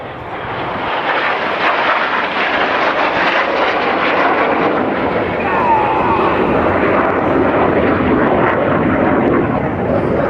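Red Arrows jets flying a corkscrew aerobatic formation at RAF Duxford: a loud, steady roar of jet engines sustained overhead throughout, with a voice faintly audible beneath.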